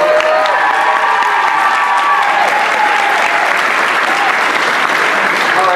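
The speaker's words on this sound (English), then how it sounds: "applause for that choir band." Sustained, dense applause from a live audience after a choir band's performance at a cultural show, loud and steady throughout with scattered crowd noise mixed in.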